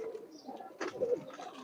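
Pigeons coo softly in a loft with four compartments, a low murmuring burble rising briefly louder near the middle, with faint bird chirps around it and no talking.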